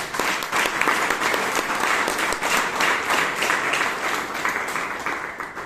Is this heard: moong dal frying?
no